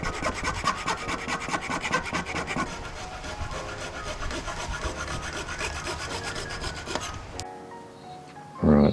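A brake block being cut down by hand to make a piston-holding tool for Magura MT5 bike brakes, heard as steady rasping strokes of filing or sawing that run continuously, then stop near the end.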